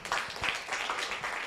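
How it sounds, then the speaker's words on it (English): An audience at a climate change prize competition claps for the MC in a brief, soft burst of diffuse applause heard from a distance. "Please, let's clap for the MC."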